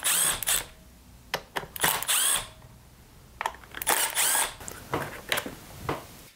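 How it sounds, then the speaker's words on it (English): Small power driver or drill backing T20 Torx screws out of a STIHL MS291/391 chainsaw chain brake cover, several short whirring bursts separated by brief pauses, close and fairly quiet. "Now to get in there, you need to remove three T20 Torx screws."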